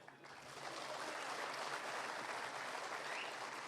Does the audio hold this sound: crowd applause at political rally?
yes